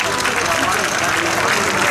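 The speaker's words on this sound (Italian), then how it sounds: "facciamo un applauso" Loud, continuous applause from a beauty pageant audience in an Italian town square, dense and unbroken, with voices mixed in beneath the clapping.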